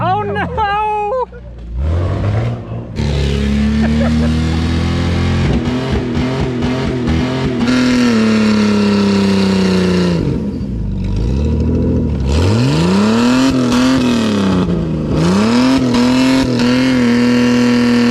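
A remote control Jeep whines through rising and falling electric motor pitches as it drives and revs in repeated bursts, loud and close, with a voice talking over it at the start.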